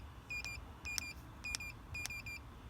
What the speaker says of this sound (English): you can hear the keypad beeping at me